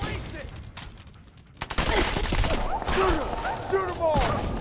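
Rapid gunfire in Fallout 4, a dense fusillade of shots after a brief quieter lead-in, with voices and combat sounds mixed throughout.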